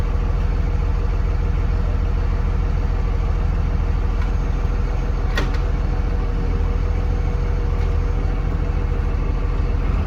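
A bus engine idles and runs steadily throughout during a driving lesson, a constant low rumble close by, with one brief sharp click partway through.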